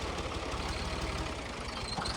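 A tractor engine idles with a steady, low diesel rumble as it reverses slowly into a new garage after a wash. The sound is continuous and close, with no voices.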